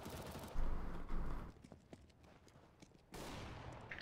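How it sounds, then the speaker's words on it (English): Suppressive gunfire in CS:GO, loud bursts of rapid automatic shots up close, then a quieter stretch of scattered single shots before another sustained burst. "I'm laying down suppressive fire now."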